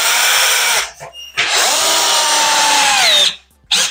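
A power drill drives screws during a toilet-room renovation, a loud close whir running in two long bursts with a brief gap between, pitch dipping as the screw seats, then a short final burst.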